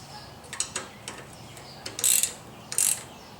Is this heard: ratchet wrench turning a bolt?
yes